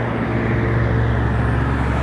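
Steady road traffic behind a temple area near a park and lake, a continuous low engine hum and rumble with no distinct passes or voices.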